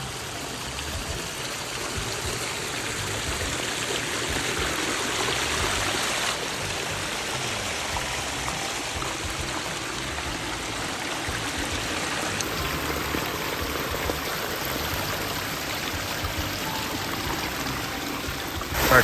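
A landscaped garden stream at a cemetery flows and splashes continuously, a steady close rush of running water with trickling and pouring texture throughout, and no voices.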